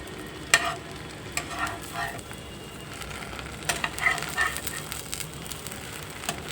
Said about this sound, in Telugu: బ్రెడ్లు ఇలా కాల్చుకోవాలి